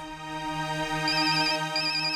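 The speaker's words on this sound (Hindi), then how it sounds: "ऑफिस से फोन है" A melodic electronic phone ringtone plays on its own in a Hindi TV crime drama scene, a repeating tonal pattern at moderate volume.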